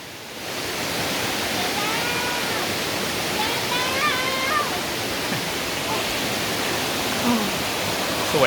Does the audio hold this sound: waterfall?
yes